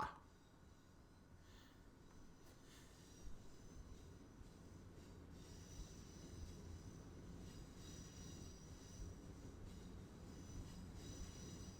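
A train rolls past on the tracks in the Simrail rail simulator, heard as a steady, moderately loud rumble of wheels with faint squeals and clatter running throughout, with no talk.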